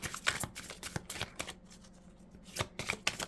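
Twin Flame oracle cards are shuffled by hand in several quick riffling bursts, close and crisp, with brief pauses between them.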